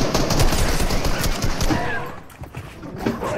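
Dense enemy gunfire in a shooter video game, a steady loud rattle of rapid shots that thins out near the end, with faint talk underneath.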